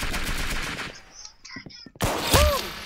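Rapid bursts of automatic gunfire in the Roblox shooter Arsenal crackle loud and close, pausing for a moment of scattered game sounds before another heavy volley erupts, with a voice speaking over it.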